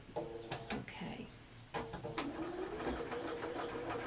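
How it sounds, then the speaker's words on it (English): A home sewing machine stitches a half-inch seam on a fabric basket, with a steady mechanical whirr and clatter that starts and stops, heard up close with some handling noise and a little talk. "so we're sewing at half inch."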